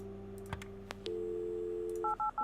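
Touch-tone keys beep as a telephone number is dialed in the Kathy Rain video game, a few clicks over a steady dial tone followed by three quick paired tones.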